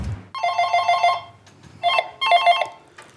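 A telephone rings in two trilling bursts at a volunteer grocery-shopping help line in Kiel, loud and close, with a short pause between rings.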